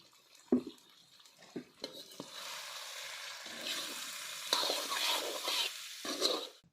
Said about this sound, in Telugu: చికెన్ బాగా చిన్న మంట మీద ఫ్రై చేస్తూనే ఉండాలి